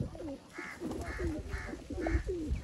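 A pigeon coos nearby in a run of five soft, evenly spaced calls over a low background murmur.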